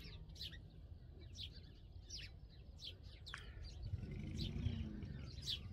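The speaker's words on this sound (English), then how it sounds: "Baby birds singing in the nests." Baby birds chirp in short, high bursts from nests in a hedgerow, over and over, fairly close, with a low tractor engine rumble growing louder in the background toward the end.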